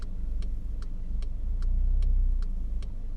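A car engine rumbles steadily and swells slightly as the learner driver presses the gas during a driving lesson, with a turn signal ticking at a regular beat over it and no talking.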